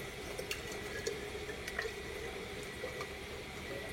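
Alkaline 11.5 pH water pours from the top hose of a water machine into a collecting container, while acidic 2.5 pH water runs from a bottom hose, giving a steady, even, close rush of flowing liquid throughout.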